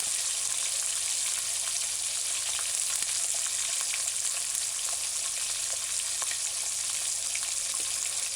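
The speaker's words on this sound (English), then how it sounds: "The frying of ham always smell nice." Ham sizzling in a pan on a stove set to medium-high, a steady close crackling hiss with scattered pops and spits that holds evenly throughout, with no voices.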